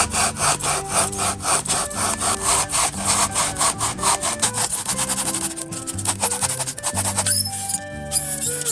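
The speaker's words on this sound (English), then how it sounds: "I can proceed to cut it with this. It's made by Tamiya." A small Tamiya hobby saw cuts through a piece for a model diorama base in quick, even back-and-forth strokes. The rasping is close and steady, with no talking, then slows and thins toward the end.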